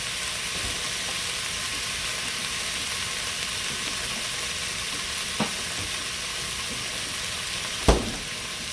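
Sausage, onions and peppers fry in a cast iron Dutch oven with a continuous, even sizzle and hiss, broken by a couple of brief utensil clicks near the end.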